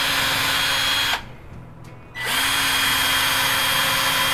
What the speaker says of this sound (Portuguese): agora vamos fazer um furo aqui de mais ou menos de profundidade aí, uns 15mm